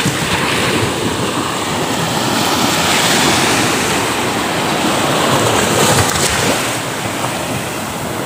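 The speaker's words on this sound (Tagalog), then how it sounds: "Ang lakas ng alon, oh." Strong ocean surf at high tide near Tolosa roars steadily and loudly, a broad continuous wash of breaking waves with some wind buffeting the microphone.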